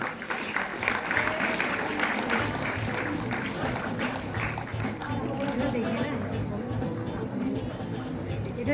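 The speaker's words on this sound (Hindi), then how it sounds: "एक बार जोरदार तालियों से स्वागत करें।" A crowd at a 15 August 2025 Independence Day celebration claps to welcome a ranker onto the stage, with dense, continuous applause mixed with chatter and voices.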